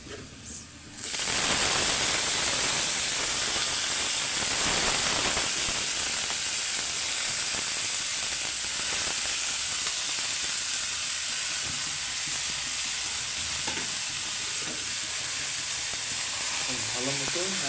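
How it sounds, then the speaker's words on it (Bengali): Banana flower added to hot oil already fried with cumin seeds erupts into a loud, close sizzle after a brief quiet start, then a sustained crackling hiss runs throughout. "ভাজা হয়ে গেছে, এখন কলার মোচা দিয়ে দেবে।"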